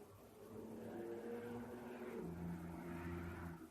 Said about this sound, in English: Yeah, car's loud.